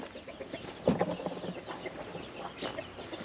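Hens cluck softly in a hobby coop in Taşköprü, Kastamonu, on a summery day, with a louder burst of clucking midway and scattered fowl calls around it.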